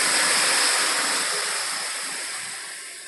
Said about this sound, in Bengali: এখন ফুটানো পানি দিয়ে দিব, আগে থেকে ফুটিয়ে রেখেছি পানি দিয়ে দিব